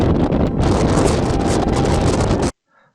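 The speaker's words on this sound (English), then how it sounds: "That cold wind is whipping through Marge's clothes" Cold wind roars hard across the microphone outdoors in an ancient bristlecone pine forest, a loud, gusting rush that cuts off abruptly near the end.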